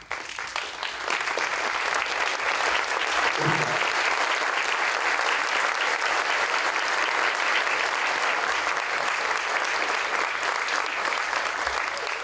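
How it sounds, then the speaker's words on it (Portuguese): A standing audience at a university graduation ceremony claps in a long, steady, dense ovation that fills the hall evenly throughout, with a faint voice briefly audible early on. "eu peço um aplauso a todos vocês em pé"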